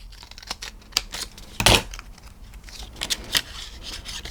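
Scissors snip through paper or cardstock while a Christmas gift box is made, giving a run of short, crisp cuts with one louder snip near the middle, close up and without talk.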